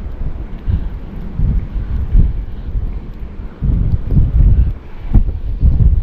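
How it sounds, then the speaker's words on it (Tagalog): Strong wind buffeting a microphone on a fishing boat at sea, a continuous low roaring rumble with gusty surges, loud and close, no voices. "Sobrang lakas ng hangin, pumapagilid po sila."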